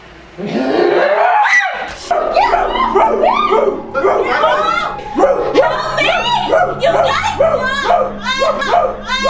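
A person imitates a dog, letting out a long string of loud, yelping bark-like vocal bursts in quick succession with voiced, speech-like sounds mixed throughout.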